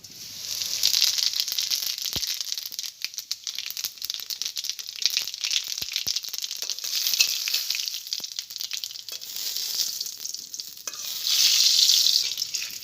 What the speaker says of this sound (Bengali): ফোড়নের জন্য আমি সর্ষের তেল দিয়ে দিচ্ছি। ফোড়নে দিচ্ছি জিরে,